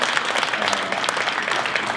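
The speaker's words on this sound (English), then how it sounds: "let's give him a round of applause, even though he's not here" Audience applause at an awards banquet, a steady dense patter of many hands clapping throughout, fairly loud and continuous with no talk over it.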